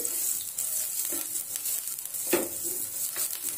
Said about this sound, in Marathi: कांद्याने थोडं थोडं पॅनला तेल लावून घेतोय